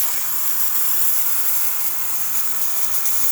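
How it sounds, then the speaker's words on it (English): Steam hisses steadily and loudly from the steam wand of a DeLonghi Magnifica espresso machine, a constant broad rush with a faint low pulsing hum beneath, no talking. "we can clearly see steam coming out of the steamer"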